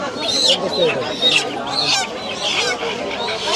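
Chicks and fowl at a Bangladeshi village market give repeated high-pitched peeps and calls close by, overlapping with market chatter and voices.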